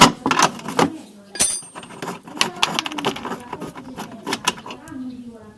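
A wrench loosens the second 13 mm bolt holding the centre of a side step on a Nissan Qashqai J11, giving close bursts of rapid ratcheting clicks with brief metallic knocks and scrapes in between.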